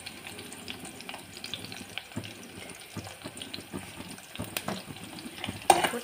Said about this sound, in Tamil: ஒரு 2 நிமிஷம் ஃப்ரை பண்ணிக்கோங்க